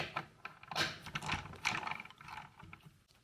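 A T50 Torx driver works on the bar ends of a BMW R1250GSA motorcycle, giving close, small metallic ratcheting clicks and tool scrapes in short irregular bursts without speech.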